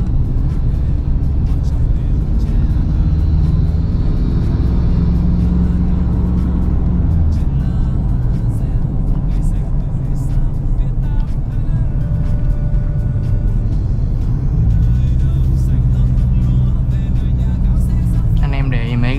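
A Ford Ranger Raptor's engine drones steadily while it climbs the Bảo Lộc mountain pass, a continuous low hum that rises and falls slightly, with someone talking over it throughout.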